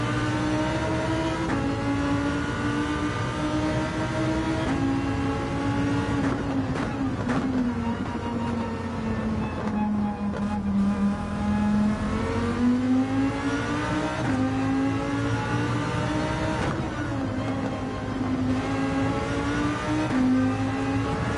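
A race car engine drones steadily through a lap of Laguna Seca in a racing game, pitch rising and falling with shifts and corners, loud and continuous with no talk.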